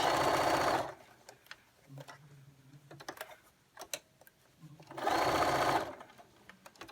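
Sewing machine stitching an elastic casing on a washable fabric mop head cover, two loud bursts of rapid needle chatter at start and end with quieter clicks and handling between.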